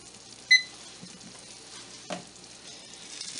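Eggs fry in a pan with a soft, steady sizzle, broken by a short electronic beep early on and a single clatter midway; no one speaks.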